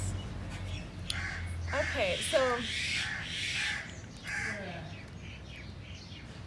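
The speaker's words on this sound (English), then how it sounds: "And these crows or birds" Crows cawing outdoors, a few harsh rasping calls in short bursts at middle distance, heard under someone talking over steady background hum and street noise.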